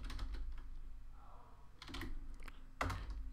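Short bursts of clicking computer-keyboard keys typing out a Roblox username, with pauses between flurries and a louder tap near the end, close-miked over faint room noise.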